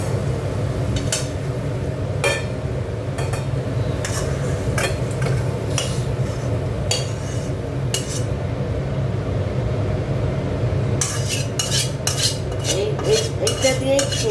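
Cooked taro stolons poured and scraped from a metal pot into a dish, repeated clinks and scrapes of a spoon against the pot over a low steady background hum, close and clear with no speech.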